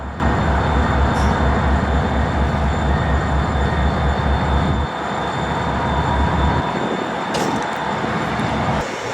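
Ballast train in the Rapid City rail yard, South Dakota, with a heavy diesel locomotive rumbling and railcars grinding along, loud and close and steady throughout, with brief high squeals of wheels on rail.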